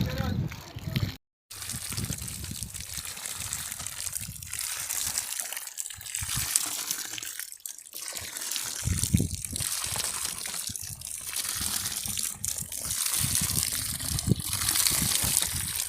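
Water from a newly drilled well about nine meters deep gushes and sloshes in uneven surges, loud and close, with a brief cutout near the start and people talking over parts of it.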